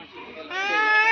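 A goat bleats at Kaneri Math in Kolhapur: one sustained, wavering, nasal cry that grows louder and brighter halfway through, heard close and on its own.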